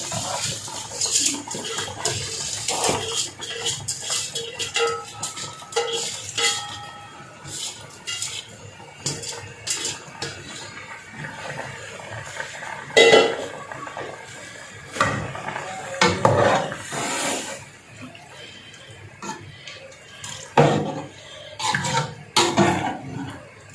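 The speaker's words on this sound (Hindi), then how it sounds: "मैं चावल डाल रही हूँ।" Rice is tipped into a pot of half-cooked potatoes, with close clinks and scrapes of metal utensils against the pot plus splashing water throughout, and no talking.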